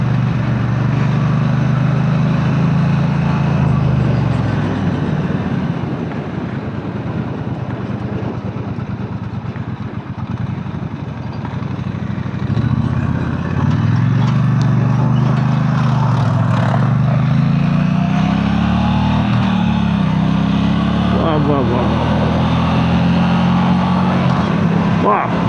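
Brixton Cromwell 1200 motorcycle engine pulling hard under acceleration, a loud low rumble that rises and falls across gear changes, continuous and close throughout.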